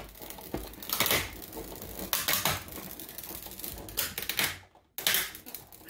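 A custom die cutter being cranked to cut cards: a series of loud mechanical clacks and grinding crunches in uneven bursts, with a brief pause near the end before one more crunch.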